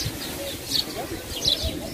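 Pigeon-like cooing from a bird at a resort hotel in Hurghada, Egypt, heard as a few soft coos close by, with people talking nearby.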